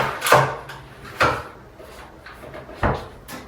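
Kitchen cabinet drawers and pull-outs in a home under renovation open and close with three distinct wooden thuds and slides, spaced about a second apart, with soft rustling between them.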